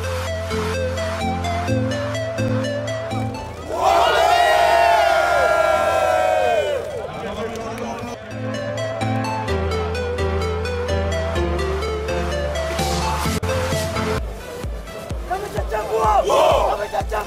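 Rugby sevens crowd at the Christie Sevens cheering loudly, with a sustained roar and surging shouts rising over stadium music, full and continuous throughout.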